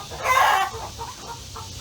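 Chickens at a colonial plantation in Ridley Creek State Park, Pennsylvania, give a short, close cluck and squawk followed by softer clucking against faint outdoor background.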